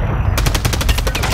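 Rapid automatic gunfire from Call of Duty MW3 rattles in a loud, close stream of evenly spaced shots lasting just over a second, with no voices.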